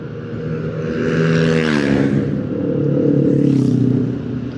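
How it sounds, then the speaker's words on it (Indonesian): A Pekalongan–Sukorejo public bus passes on a hilly alternative road, its engine rumble swelling, fading slightly, then rising again as it goes by close and loud. "Ini ada bis apa ini? Bis angkutan."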